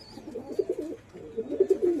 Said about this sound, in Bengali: দেখতেই পাচ্ছেন প্রত্যেকটা পায়রা ফিট